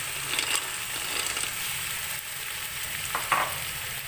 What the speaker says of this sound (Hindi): फिर इसमें हम मटर डालेंगे,